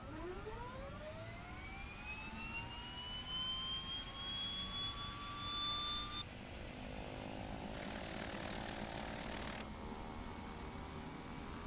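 In Flight Simulator X, the left turboprop engine of a King Air 350 spools up from start with a steadily rising whine, then settles into a constant even roar and hum, heard alone without talk.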